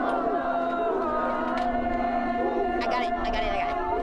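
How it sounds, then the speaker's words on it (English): A crowd of protesters gathered on Mauna Kea Access Road, with a steady murmur of many voices, scattered calls and chatter filling the scene at close range throughout. "a crowd of people at the center of Mauna Kea Access Road with linked hands"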